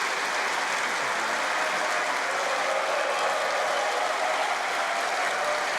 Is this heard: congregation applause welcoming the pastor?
yes